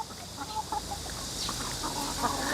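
Chickens cluck softly around a farmyard, with scattered short calls over a steady background hiss, moderately distant and without any talking.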